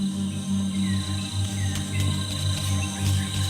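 Crickets chirp in a dense, steady chorus, with a constant high trill and a few faint bird-like tweets over a low hum.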